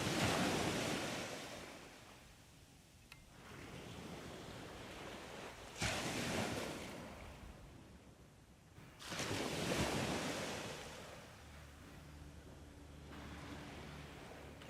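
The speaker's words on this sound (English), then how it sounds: "You can hear the extra swell coming in from the pilot boat." Swell waves from a passing pilot boat surge ashore in Tauranga Harbour, three rolling washes each building and fading, with wind buffeting the microphone between them.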